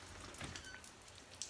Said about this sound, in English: So yes, we're having a rainy day.